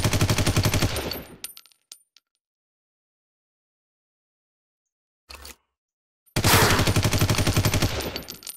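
Tommy gun bursts in the gangster combat game Omerta City of Gangsters: a loud rapid automatic volley, a few trailing shots, a long silence, one short burst, then another sustained loud rattle of fire.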